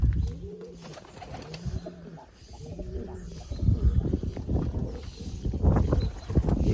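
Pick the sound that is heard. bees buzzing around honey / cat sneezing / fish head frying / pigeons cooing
pigeons cooing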